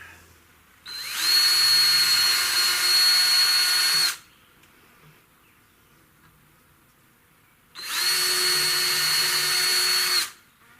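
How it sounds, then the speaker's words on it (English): Two loud whirring bursts from a power drill drilling pilot holes while building a secondary well, each a few seconds long, with a quiet pause between them. "let me drill some pilot holes right quick like"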